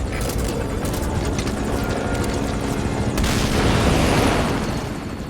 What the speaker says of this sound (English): God, the chopper! Do something!